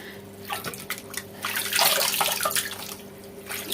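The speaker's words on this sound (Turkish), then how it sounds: "Şimdi patlıcanlarımızı tuzu gitsin diye yıkayacağız." Tap water runs steadily over eggplants being washed in a kitchen sink, a close, continuous splashing wash that swells midway with brief drips and trickles, with no talking.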